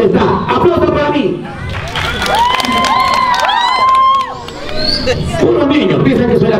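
Street-comedy crowd cheering and shouting, with some children's voices and scattered clapping, loud and close; someone speaks over the noise before and after the main burst.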